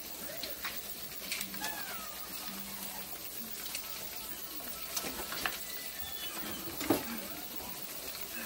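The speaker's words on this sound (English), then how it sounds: "in this pan I have some shrimps frying." Soft, steady sizzling of shrimp frying in a pan, with occasional pops and light clinks, no talking.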